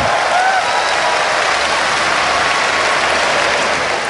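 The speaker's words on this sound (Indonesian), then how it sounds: "Tepuk tangan buat Metro TV." A stand-up comedy crowd at a Metro TV taping bursts into applause, a loud, dense, continuous roar of clapping that holds steady for about four seconds.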